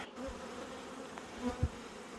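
Honey bees buzz at an open beehive, a faint, steady drone close by with a few louder buzzes as individual bees pass near.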